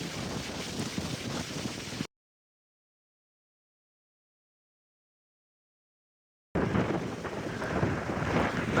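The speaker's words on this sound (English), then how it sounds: "it's windy" Gusty wind on the Appalachian Trail in Shenandoah National Park buffeting the microphone in a loud, rumbling rush, cut off by a long stretch of silence before it resumes.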